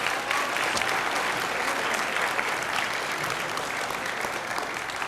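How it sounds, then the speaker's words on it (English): A school audience at an 8th grade awards ceremony claps steadily and densely for two award winners, a continuous round of applause with no speech over it. "if we could have one last round of applause for those 2 individuals"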